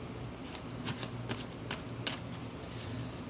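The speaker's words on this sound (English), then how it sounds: "So I'm going to shuffle just a few more seconds." A deck of tarot cards being shuffled by hand, quiet riffling and soft ticking flicks in a few short bursts against faint room hiss.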